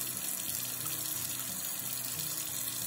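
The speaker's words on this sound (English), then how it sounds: "I'm gonna get some warm water, and I'm gonna take my brushes and get them a little bit wet" Warm water running from a tap onto paintbrushes to wet them, a steady, close, continuous rushing splash with no talking.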